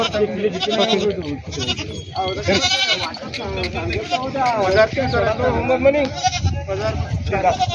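Many goats bleat over and under each other in a noisy, crowded goat market in Hingoli, with people talking throughout the constant din.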